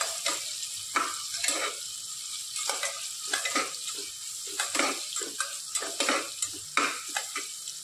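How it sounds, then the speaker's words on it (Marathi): Vertically sliced onion fries in oil for mutton nihari, giving a moderate sizzle with repeated scraping strokes of a spatula stirring the pan. "कांदा पण व्यवस्थित फ्राय करून घ्यायचा आहे।"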